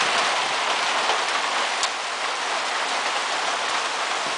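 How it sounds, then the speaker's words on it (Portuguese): Hail and heavy rain pour down during a storm in Sertãozinho, São Paulo, a dense, steady roar of impacts with a few sharper individual strikes standing out, loud and continuous with no voices. "Chuva de granizo no Sertãozinho"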